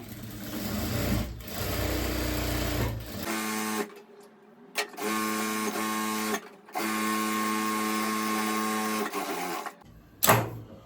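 An electric sewing machine runs a double line of stitching on palazzo trousers in fast, rhythmic bursts, stopping and starting several times with short silent gaps and a click at the end, heard close up with no talking.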